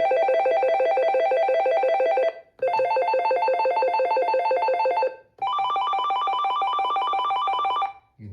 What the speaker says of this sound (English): You can set the different ringtones here.